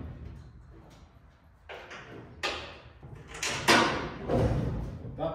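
Doors of a Dacia 1100 car are shut one after another, giving several sharp thuds and bangs at uneven intervals, growing louder toward the end over a low background rumble.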